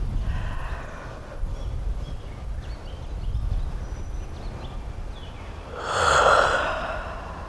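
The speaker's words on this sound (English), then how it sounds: "Do another yawn with me." People do a slow, audible breath with a drawn-out yawn that rises near the end over soft background hiss, part of a relaxation exercise.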